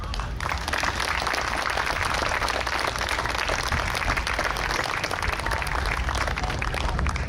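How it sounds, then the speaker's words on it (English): An outdoor crowd at a state police special operations team demonstration applauds steadily, a continuous wash of clapping from many people at moderate distance, lasting throughout without talk. "we think it's those guys that deserve a real round of applause for that"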